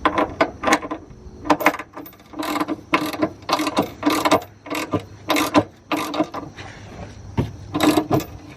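A hand ratchet tightens trailer hitch bolts under a 2017 Chevy Equinox, giving repeated bursts of sharp, close clicking strokes in an uneven rhythm with short pauses between pulls.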